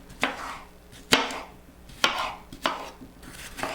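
A knife chops a crisp red pepper into pieces on a cutting board, five distinct thuds spaced irregularly, close and clear with no talking.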